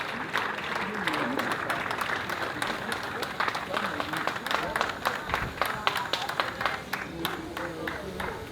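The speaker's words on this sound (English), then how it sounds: "please just give him a huge round of applause" Audience applause for a poet at a memorial field trip event, a steady scattered clatter of hand claps from a crowd, moderately loud throughout, with voices talking over it.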